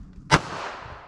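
One sharp, loud crack from a .380 ACP round fired through a short LCP pistol barrel in a ballistic test, followed by a short ringing decay, with no voices.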